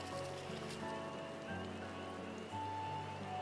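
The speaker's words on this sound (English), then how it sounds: "Does it have to be raining during this cutscene?" Steady rain falling during a cutscene in Final Fantasy XIV: Dawntrail, a continuous hiss of drops on surfaces layered under soft sustained game music, with no voices.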